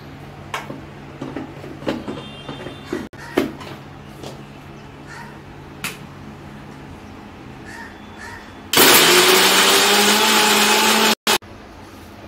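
After quiet kitchen clatter, a mixer grinder roars loudly for several seconds grinding a paste of onion, black pepper, green chili and ginger, cutting out briefly before whirring again.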